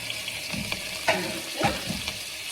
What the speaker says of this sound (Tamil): இதை கொஞ்சம் நல்லா வதக்கணுங்க